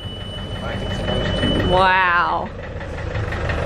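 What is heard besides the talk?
boat engine starting and idling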